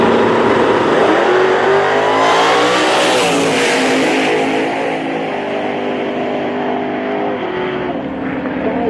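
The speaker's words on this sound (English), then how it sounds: "Don't forget Mustang here in the left lane out of Claremore, Oklahoma, driven by Rod Oxford." Pro Mod drag cars, a Ford Mustang and a Chevrolet Camaro, racing at Tulsa Raceway Park, a loud sustained roar of high-revving engines sweeping past, then easing as they pull away down the strip.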